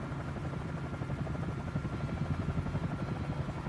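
Helicopter engine and rotor in Microsoft Flight Simulator during a bush flight in the Congo, a steady low chopping thrum with rapid rhythmic rotor pulses, close and continuous, with no talk.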